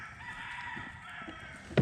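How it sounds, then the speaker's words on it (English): Roosters crow in the distance at a reservoir in the early morning, faint, drawn-out calls over a quiet outdoor hum, ending in a sudden close bump. "The roosters are crowing."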